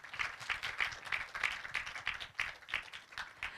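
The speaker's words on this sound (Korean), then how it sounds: "여러분 박수로 맞이해 주시기 바랍니다." Audience applauding at an online journalism award ceremony as the winning team is welcomed, a sustained round of clapping heard from a distance, with a soft, steady rhythm and no talk over it.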